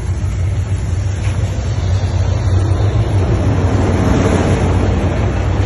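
A Peterbilt truck engine runs steadily after starting, a loud, close, continuous low rumble with no voices.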